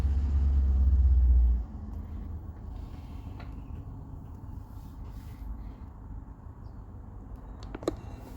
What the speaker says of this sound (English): Have another bus leaving.